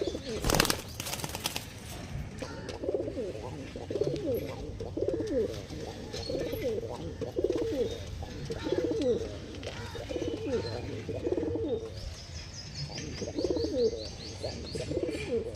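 Purebred Lambadi pigeons coo steadily in repeated soft low phrases, close by, with occasional wing flaps and faint chirps in the background.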